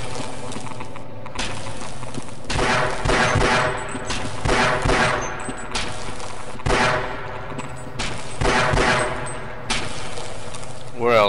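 Gunfire in the video game Half-Life, bursts of shots repeating in uneven clusters over a toxic-waste level, with watery sloshing and game sounds underneath.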